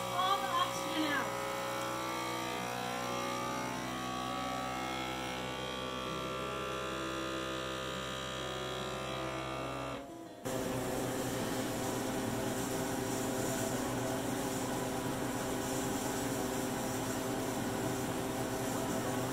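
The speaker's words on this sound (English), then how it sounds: "then I'm going to vacuum. And then it's really loud, but it sucks all the oxygen out." A FoodSaver vacuum sealer pulls the air out of a bag of bacon with a loud steady electric hum. The motor note holds, shifts abruptly partway through, then runs on at a rougher, noisier pitch.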